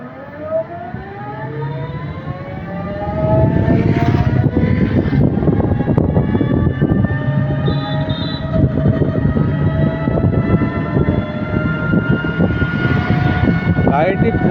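A vehicle from a Maslandapur cycle store rides at full speed, a loud close motor whine with rising and falling tones over heavy wind and road rumble, with a voice talking over it.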